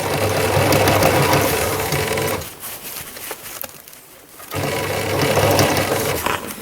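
A sewing machine stitches fabric while a simple fabric basket is being sewn. The steady, whirring motor runs loud and close, stops briefly for a couple of seconds, then resumes. No one speaks.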